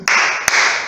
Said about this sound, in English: Let's give ourselves one smiling clap.